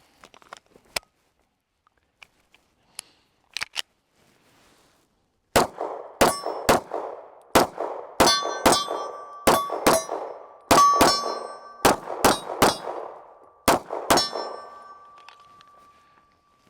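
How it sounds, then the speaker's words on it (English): Staccato HD 3.6 pistol fired with a metal magazine: a few scattered sharp shots at first, then a steady string of loud, close reports about a second apart, each ringing briefly with metallic clang. "let's go through and shoot a few rounds through here and see how this thing fires"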